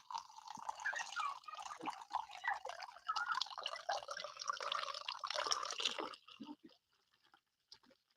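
Wine pours into a glass over a keyboard, a bright liquid splashing and gurgling for about six seconds before thinning to a few faint scattered drips.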